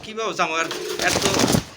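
Pigeons at a market stall selling racer and other breeds coo softly and repeatedly at close range, mixed with people talking nearby.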